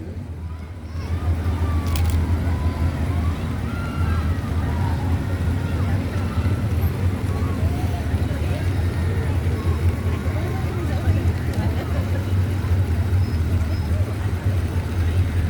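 A Pontiac Tempest rolls along a Veterans Day parade route in Holtville, Imperial County, its steady low engine rumble blending with continuous outdoor street noise, with voices present in the mix.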